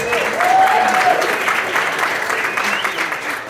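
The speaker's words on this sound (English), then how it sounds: "You guys applauded and you didn't even know who I was" A comedy club audience applauds a man introduced from the crowd, dense clapping close and steady with cheering voices mixed in, tapering slightly toward the end.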